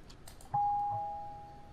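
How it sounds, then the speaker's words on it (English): A doorbell in the video game Night Delivery gives a single clear electronic tone that sustains and slowly fades, over quiet background. "Doorbell."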